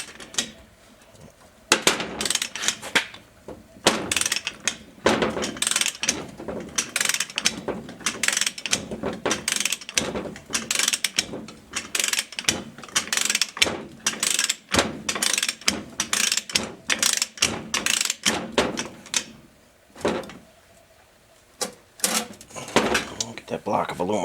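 A torque wrench set to 120 foot-pounds clicks while a bolt is tightened during a Willys T-90 transmission and transfer case rebuild, giving sharp mechanical ratchet clicks in a busy, repeated workshop clatter with speech around it.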